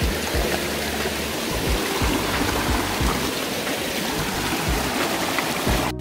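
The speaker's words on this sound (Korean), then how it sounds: "여기가 폭포 위의 계곡인데요" Cold mountain valley stream running just above a waterfall in a clean gorge in Cheorwon, Gangwon-do, with a steady, close, broadband rush of flowing water throughout and no voices.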